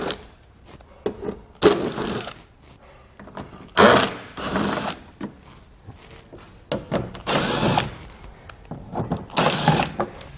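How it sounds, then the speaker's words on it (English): Bolts being removed with an 8 millimeter socket while fitting a hidden hitch receiver on a 2019 BMW X3, heard as irregular bursts of ratcheting and mechanical clicking with handling clatter between them, close up, no speech. "We'll use an 8 millimeter socket to remove them."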